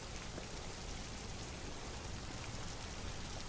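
Steady rain pours in the video game Detroit: Become Human, a continuous dense hiss of falling water on surfaces that stays even and fairly loud throughout with no voices.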